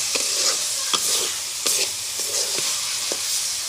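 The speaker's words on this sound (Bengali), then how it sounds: "শুটকি ভুনাটা এখন ভালোভাবে নেড়ে চুলা থেকে নামাবো।" A spoon stirs dried fish bhuna (shutki) in a pan, with repeated scraping strokes at an uneven rhythm over a steady close sizzle of frying.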